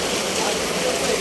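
Steady rain pours during an outdoor shoot on a wet afternoon, a dense, continuous hiss close by, filling the whole moment without a break.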